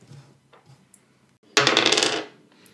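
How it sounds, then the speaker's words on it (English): Dice are rerolled during a Thief's Market board game, rattling across the table in one short burst of clicks, close and fairly loud, after a quiet stretch. "If this is a dice, you must reroll it"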